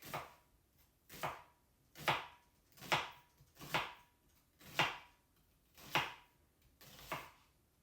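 A knife cuts a thin steak into long julienne strips on a board, about nine evenly spaced soft chops, close and quiet, with no talking.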